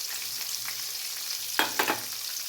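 Green chillies fry in a pan, giving a steady soft sizzle with a couple of louder bursts of crackle as they are stirred.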